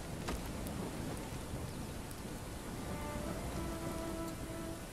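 Steady rain falling in the video game Bellwright, a dense even hiss of drops on surfaces with a few faint tones drifting through near the end, no voices.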